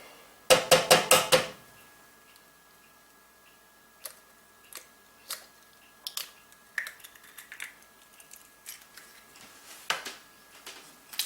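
A spoon stirs eggs into Bakewell tart mixture in a bowl. A quick flurry of sharp clinks comes first, then scattered single taps and scrapes against the bowl, close by and with no talk.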